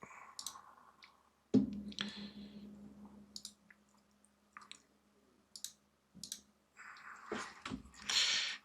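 Mouse clicks while drawing a staircase in HiCAD 3D design software, a handful of sharp isolated clicks spread across the stretch with quiet gaps, close to the microphone, alongside faint scattered taps and a low steady hum.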